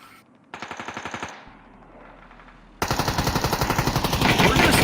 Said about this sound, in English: Looks like Team 6 and Team 4 are still taking pop shots at each other.